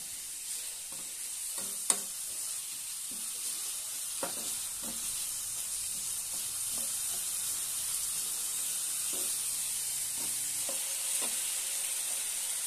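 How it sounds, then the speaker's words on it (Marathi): Aloo bhurji ingredients frying in hot oil give a soft, continuous sizzle with scattered utensil taps and stirring clinks, fairly quiet and close, with no voices. "आणि छानपैकी तेलामध्ये फ्राय करून घेऊया।"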